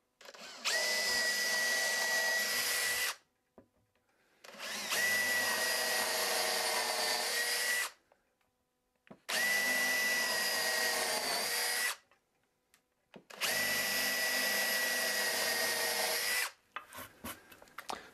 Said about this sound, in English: I'm just going to drill in a few different spots here and get rid of the wedge